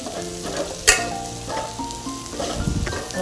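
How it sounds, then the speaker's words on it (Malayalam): Biryani masala mixed with yogurt sizzles and fries in a pan for chicken dum biryani, with a sharp clatter of the spoon near the start and steady frying underneath. No one talks. "ഇതിലേക്ക് കുറച്ച് തൈര് ചേർത്ത് കൊടുക്കാം കേട്ടോ. ഇളക്കി കൊടുക്കണേ."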